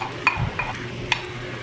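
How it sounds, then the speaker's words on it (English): Finely chopped onions frying in a pan for Bengali egg masala, a soft sizzle under a few sharp clicks of a utensil scraping and stirring against the pan. "Now I will add the finely chopped onions and we will fry the onions till they turn light brown."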